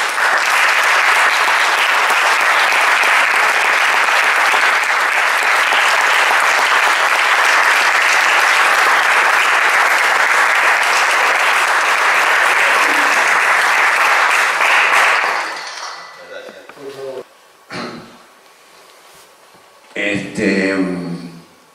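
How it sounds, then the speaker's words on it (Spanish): A tango audience gives a dense, loud round of applause to a bandoneon maestro, sustained for about fifteen seconds before cutting off abruptly, followed by someone speaking. "le damos un gran aplauso al maestro Raúl Garelo"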